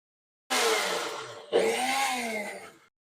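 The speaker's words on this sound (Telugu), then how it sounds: "ఇదంతా మిక్సీ కొట్టుకొని అన్నీ" A mixer grinder whirring loudly as it grinds soaked sesame and mustard seeds, two close bursts with a brief stop between, the motor pitch sagging under load before it cuts off.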